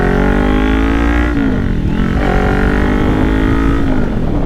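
A motorcycle rides along with its engine running at a steady loud drone that rises and falls slightly in pitch as it moves, with continuous wind and road rumble.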